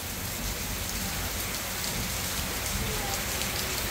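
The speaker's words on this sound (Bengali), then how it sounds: "বৃষ্টি ঝমঝম ঝমঝম" Heavy rain pours down in a dense, unbroken hiss, steady and fairly close, with no voices over it.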